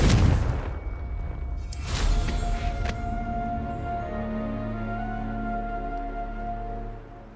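Confringo fire spell blast in the game Hogwarts Legacy: a heavy, booming explosion up front that decays into a long rumbling, crackling roar with lingering tonal hum, loud and without talk.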